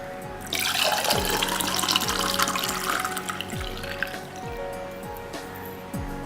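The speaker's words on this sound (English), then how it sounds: "So now we'll pour our hot chocolate into the glass." Hot chocolate pours steadily into a glass, a continuous liquid splash and gurgle that rises in pitch as the glass fills, close and loud with no talking.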